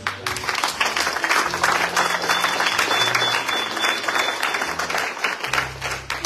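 A church congregation applauds loudly and continuously, a dense wash of clapping from many hands with faint voices mixed in.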